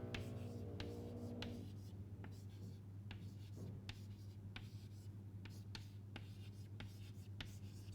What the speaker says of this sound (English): so let us just write this out.